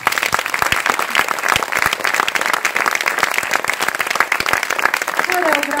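Audience applause at an anniversary celebration performance, dense rapid clapping from a crowd that stays loud and steady, with a voice briefly rising near the end.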